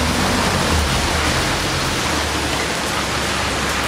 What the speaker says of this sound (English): So it's raining pretty hard